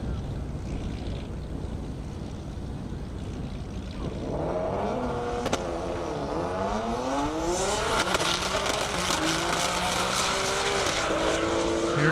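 English Racing Nissan GTR race car accelerating hard down an airstrip at a half-mile speed event, the engine note climbing through several gear changes, loud and steady against strong wind noise.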